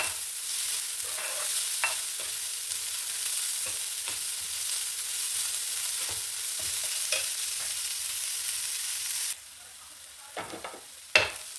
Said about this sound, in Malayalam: സവാള അരിഞ്ഞ് വെച്ചിരിക്കുന്നത് ഇട്ട് കൊടുക്കാം നന്നായിട്ട് വഴറ്റിയെടുക്കാം